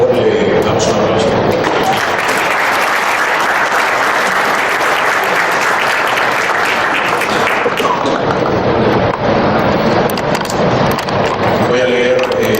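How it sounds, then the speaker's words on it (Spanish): Audience at a workshop session applauding the introduction of a speaker, a loud, sustained round of clapping that swells then slowly thins out over about twelve seconds. "Por favor, le damos un aplauso."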